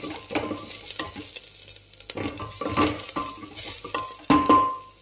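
Finely chopped green chillies go into onions frying in a pot, giving a soft sizzle with several bursts of stirring and metal utensil scraping against the pan, the sharpest clatter near the end, with no talking.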